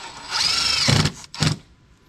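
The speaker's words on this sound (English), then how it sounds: "As he drills into a power line and shorts out" A power drill bores into a wall in a home garage, whining loudly up to speed before two heavy grinding bursts as the bit bites in, close and with no talk over it.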